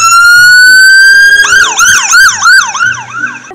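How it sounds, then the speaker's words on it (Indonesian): A loud, close electronic toy ambulance siren plays a steady rising tone, then switches to a rapid rising-falling wail, like a small battery-powered toy. "Kalau yang ini ada mobil ambulans."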